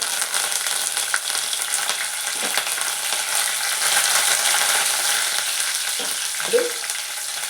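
Mustard seeds, urad dal, green chillies, curry leaves and onions sizzle and crackle in hot oil for a tempering, a steady close frying hiss with a few sharper pops and no talk.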